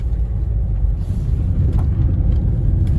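A car driving over a bumpy farm road in the countryside, its low engine rumble and road noise steady and close, with faint jolts and rattles throughout.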